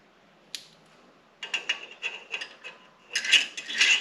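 Metal parts clink and rattle as a carburetor is fitted onto the engine of a Kinetic log splitter: a single sharp click, then clusters of light scraping and tapping that grow louder near the end.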